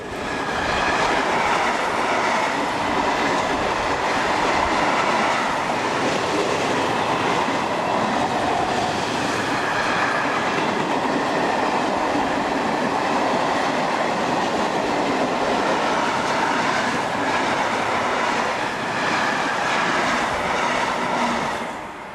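An ÖBB class 1042 electric locomotive hauls a freight train from Hungary through Parndorf, Austria, a loud, continuous rumble of wagons with rhythmic clickety-clack from the wheels and faint squeal, steady throughout with no voices.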